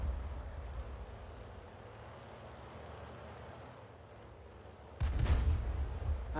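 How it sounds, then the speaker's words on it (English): A single booming tank cannon shot in a video game battle between an Su-85 tank destroyer and a Churchill tank, arriving suddenly after a quiet rumbling lull and followed by a rolling tail. "And Su-85 is exchanging fire with our Churchill"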